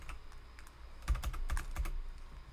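Fast, close typing on a computer keyboard: a quick cluster of crisp key clicks, with a few heavier taps standing out over a quiet background.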